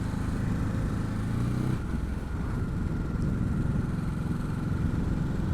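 Ducati Hypermotard 950 engine held at 3000 rpm in third gear, a steady close mid-pitched drone with a slight shift in tone partway, running continuously without any talk.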